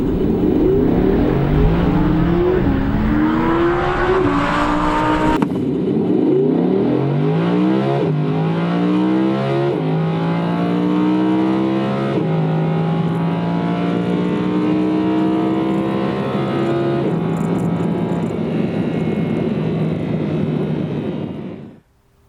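An Audi R8 V10 accelerates hard in full manual mode, its engine climbing loudly through the revs with a sharp gear change early on, then rising again in long sustained pulls before cutting off at the end.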